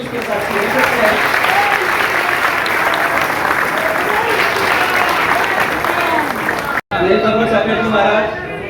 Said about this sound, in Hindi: आप सभी तालियां बजा करके भी उसके साथ ले सकते हैं।